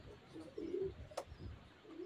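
Cooing from Omani-bloodline Teddy pigeons at a pigeon farm, a few soft low coos with a brief sharp sound midway, fairly quiet and close.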